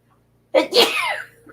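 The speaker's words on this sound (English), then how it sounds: "I had to sneeze." After a moment of silence, a single loud, close sneeze bursts out with a sharp intake and a drawn-out release.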